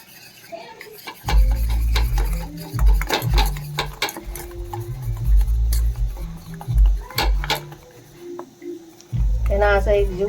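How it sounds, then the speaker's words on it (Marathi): A spoon stirs milk and masala together in a small bowl, giving a steady run of close scraping and clinking taps against the bowl, heard under ongoing talk. "आणि हे मिक्स करून घ्यायचं चांगल्या प्रकारे।"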